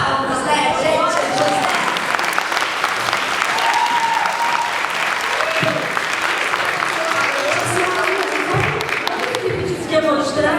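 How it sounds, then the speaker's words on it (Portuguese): Panel audience at a DublaCon 2022 stage session breaking into loud, sustained applause that fills the room for about ten seconds, with a few voices and cheers mixed in. "Ah, gente, palmas, né, gente?"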